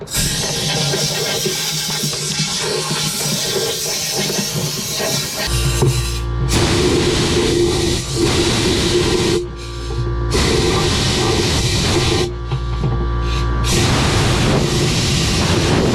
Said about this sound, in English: And let's just blow a bunch of air in here.